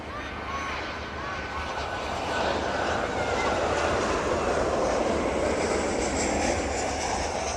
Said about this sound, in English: There it goes down the Chewy, touching down into East Midlands this afternoon.